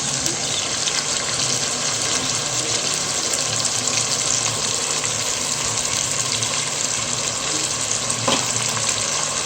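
Yogurt going into a pot of frying chicken for white chicken pulao, with a steady loud sizzle and bubbling hiss running throughout and no voices.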